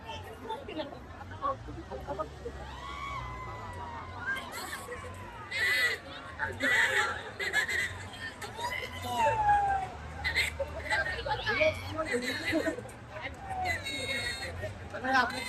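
Busy crowd chatter at the Mhasa village fair (jatra) in Murbad, with a packed crowd around a swinging boat ride: a continuous babble of many voices, some shouts rising above it, moderately close.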